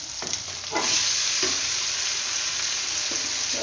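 Marinated chicken hits a hot pan and bursts into a loud, close sizzle that holds steady, with a few scraping stirs near the start and no talking.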